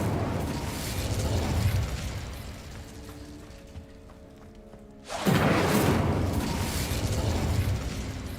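An Incendio fire spell in Hogwarts Legacy bursts out with a loud whooshing, roaring blast that sustains, fades to a quieter humming lull, then erupts again in a second roaring burst, with no talking.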